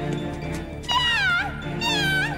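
A kitten meows twice in close succession, each call rising and then sliding down, clear and close over a low steady background hum.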